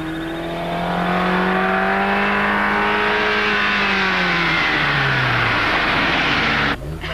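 A 1978 Alfa Romeo Giulietta 116 sweeps into a curve, its engine whining loud and steady with pitch gently rising then falling as it slows under braking, ending in a sudden cutoff.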